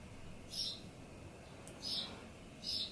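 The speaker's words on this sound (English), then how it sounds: "Can you hear the birds chirping? I have my window open." Birds chirp through an open window in three short, faint bursts spaced about a second apart over a low steady room hum.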